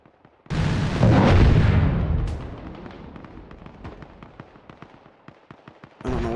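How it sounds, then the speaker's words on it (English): Explosions in the Arma Reforger video game: a loud, heavy blast rumbles and decays, followed by a rapid string of sharp popping detonations, then another blast begins at the end. "I don't know what that repeated explosion is over there."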